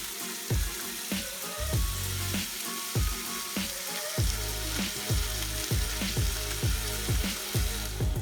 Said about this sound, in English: you want to put your bacon in.